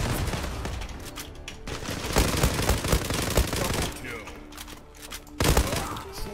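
Rapid automatic gunfire and bursts of shots in the online shooter Zula, dense and loud with heavier thumps, while a voice talks over the action.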